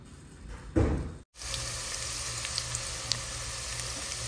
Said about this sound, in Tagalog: ginigisa ko na po ang ating bawang